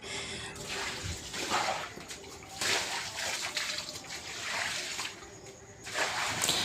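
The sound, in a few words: water splashing while washing stairs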